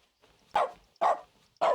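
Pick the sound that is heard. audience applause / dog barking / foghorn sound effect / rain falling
dog barking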